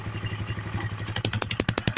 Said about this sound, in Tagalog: Ito maingay. Tambutso. Yan lang ingay yan. Tambutso yan eh.